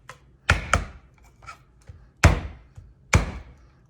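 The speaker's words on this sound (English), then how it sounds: "Smash that garlic, let go of some stress." Sharp, heavy thuds of garlic cloves being smashed on a board for fire cider, about five irregular whacks close to the listener with quieter taps between them.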